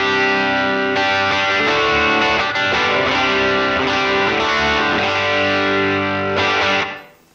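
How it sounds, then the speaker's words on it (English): An electric guitar plays through a Grammatico Bright amp model, based on a Tweed Deluxe style channel. Strummed chords and single notes ring out, mildly overdriven and full, loud and alone, then fade out at the end. "Next we have the Grammatico Bright, which is based off of the 2016 Grammatico Lagrange Bright channel of that amp"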